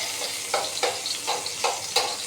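Chopped ginger and garlic sizzling in oil in a pan, with a steady hiss and a few soft, regular stirring scrapes.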